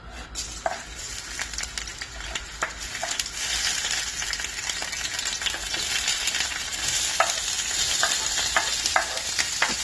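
Garlic, onion and tomatoes fry in oil in a hot wok, a continuous close sizzle with occasional light scrapes and clinks from stirring.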